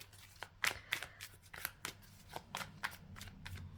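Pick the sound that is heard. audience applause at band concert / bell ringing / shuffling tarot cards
shuffling tarot cards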